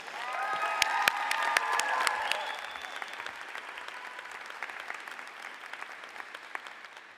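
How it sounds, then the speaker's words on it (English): Applause at a university commencement ceremony, with a moderately distant crowd clapping steadily, a few cheers at the start, then thinning toward the end. "Please join me in giving a round of applause for the one and only Nora Heaney."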